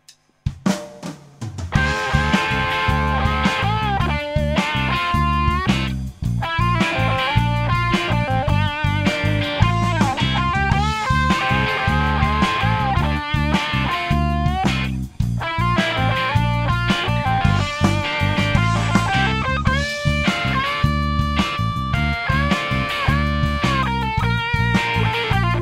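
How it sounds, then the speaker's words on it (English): A Stratocaster electric guitar driven through a TC Electronic Nova Drive overdrive pedal plays a lead line, bright sustained distorted notes and bends over a steady rhythmic backing, loud and continuous with no talking. "I'm going to juice up the sound a little bit by using my TC Electronic Nova Drive. A bit of overdrive, a bit of distortion"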